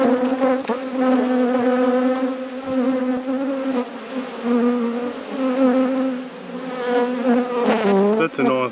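Dense, steady buzzing of honey bees from an open hive being inspected during a queenless hive rescue, loud and close with a continuous droning hum throughout.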